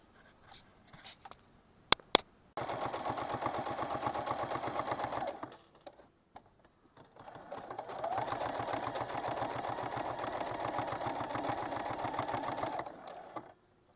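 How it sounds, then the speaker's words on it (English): A sewing machine stitches the raw edge of binding to the raw edge of a quilt at a 1/4 inch seam, running in two long, steady, close bursts with a brief pause between them. A few sharp clicks come first. "we are going to sew the raw edge of the binding to the raw edge of the quilt"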